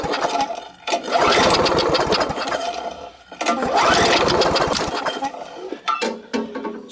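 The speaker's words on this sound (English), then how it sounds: "Still won't run, and you hear that, it's still popping back through the carburetor" A push lawn mower engine that will not start is pulled over twice, sputtering and popping back through the carburetor in loud, ragged bursts before dying, then a few clanks of handling follow.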